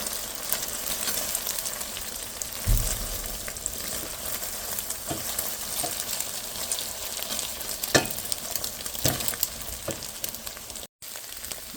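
An egg frying in a pan while being broken up into small pieces, steady close sizzling with repeated sharp taps and scrapes of the utensil over about twelve seconds and no voices.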